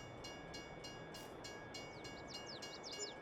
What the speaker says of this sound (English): Let's return the train here.